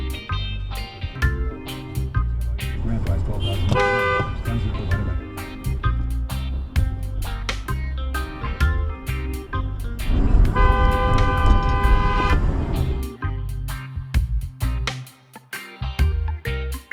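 A car horn toots repeatedly in short and longer blasts over road traffic noise, with one stretch of sustained honking from drivers in a road rage encounter.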